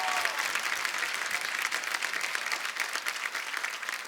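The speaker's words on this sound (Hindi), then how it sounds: "जोरदार तालियां पाजी के लिए।" A studio audience on a Hindi comedy talk show claps loudly and steadily for several seconds, a dense, continuous round of applause.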